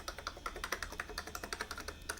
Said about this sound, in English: Keyboard seems to work.